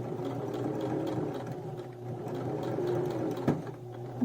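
A sewing machine runs steadily while stitching a vintage-style sleeve placket on a garment, a close, continuous mechanical whir with a brief clack near the end and no talking.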